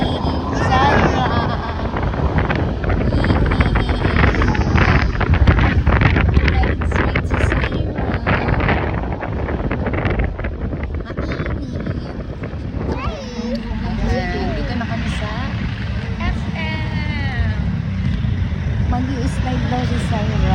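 Steady roar of wind buffeting the microphone on a moving motorcycle, loud and unbroken throughout, with an adult and someone talking over it.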